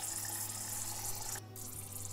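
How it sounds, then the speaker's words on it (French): Water runs from a broken tap in the zoo management video game Zoo Simulator, a steady hissing stream with a brief dropout partway through, heard alone at low volume. "le robinet, il marche pas bien"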